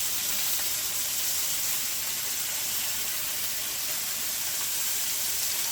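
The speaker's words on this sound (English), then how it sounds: "You only want to brown the sides for just a couple minutes before you put it in there." Pot roast browning in a hot pan before it goes into a slow cooker gives a steady, even sizzle and hiss that stays close and constant throughout, with no talking over it.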